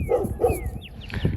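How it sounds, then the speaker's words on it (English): A dog barks in the background, two quick yappy barks followed by a softer yip, fairly close and alone. "Again, I apologize for the dog in the background"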